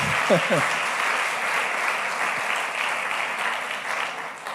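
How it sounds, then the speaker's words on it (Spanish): A church congregation applauds in praise of the Lord, a steady broad wash of many hands clapping at even volume throughout, with a brief voice near the start. "Démosle un aplauso al Señor"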